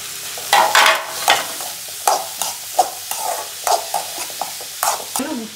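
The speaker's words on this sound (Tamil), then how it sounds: "இப்போ நம்ம காயை சேர்த்து வதக்கிக்கலாம்." Snake gourd and tomato sautéing with softened onion in a pan make a steady, soft sizzle, broken by a regular run of scraping stirs close by.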